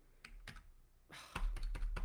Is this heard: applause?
no